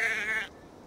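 A single short sheep bleat in a video game, close and clear, cutting off abruptly into faint quiet background.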